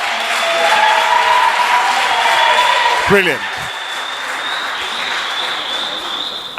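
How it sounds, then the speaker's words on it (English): An audience at a vocal ensemble concert during a symposium in the Northern Cape gives a loud, sustained round of applause, and a voice speaks briefly over the clapping midway through. "Another round of applause, ladies and gentlemen."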